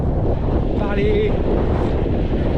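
Headwind roaring across the microphone while riding a gravel bike on small coastal roads in Brittany, a loud, continuous gusty buffeting that fills the whole stretch, with a faint hint of voice underneath.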